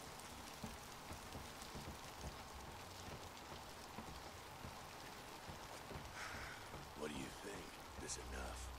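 Steady rain falls in the video game Days Gone, a continuous hiss of drops on surfaces, with a voice talking faintly over it.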